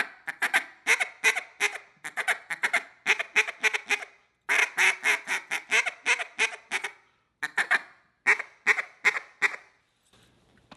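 A hand-blown duck call works a bouncing hen sequence mixed with feed chuckles: bursts of rapid, rhythmic quacking notes in clustered runs, loud and close, with brief pauses between groups and a quiet tail at the end.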